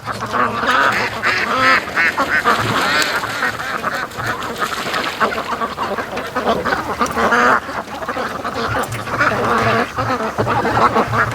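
Muscovy ducks on a lake quack and call continuously at close range, a busy overlapping flock with steady, loud chatter throughout.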